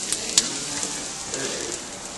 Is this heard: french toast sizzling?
yes